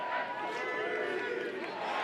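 Home crowd at Klockner Stadium during a Maryland at Virginia college lacrosse game, a steady wash of cheering and roaring that holds loud and even throughout, with an announcer talking over it.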